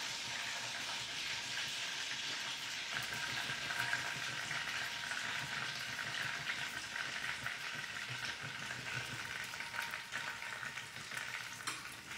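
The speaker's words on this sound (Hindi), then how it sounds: "अपनी गोभी को इस अमूल के घी में शैलो फ्राई होने के लिए छोड़ देते हैं" Cauliflower shallow frying in Amul ghee gives a steady, even sizzle that hisses on without a break, fairly quiet and with no voices.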